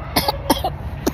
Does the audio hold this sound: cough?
yes